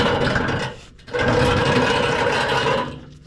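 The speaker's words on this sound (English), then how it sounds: "One full turn with the filter wrench, ratchet wrench." A ratchet wrench turning an oil filter wrench during maintenance on a Silverado gives a loud, close, continuous rapid clicking whir, with a brief pause near the middle before the ratcheting resumes.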